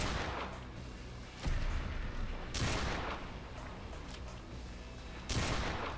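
Three powerful 4-gauge shotgun shots in Fallout 4, spaced unevenly over several seconds, each a loud sudden boom with a rolling low tail, over a steady background hum.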